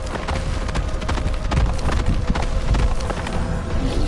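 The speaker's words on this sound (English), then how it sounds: "Realmente é um barulho de cavalo, agora que eu falo." Horse galloping in Genshin Impact, a continuous rapid clip-clop of hooves that stays loud and even throughout, with no talking.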